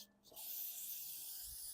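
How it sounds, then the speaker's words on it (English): A steady aerosol hiss of carburetor cleaner sprayed onto the carburetor bowl of a 2004 All-Power 6000-watt generator, close and continuous after a brief start, with no talk. "let me spray the bowl down a little bit"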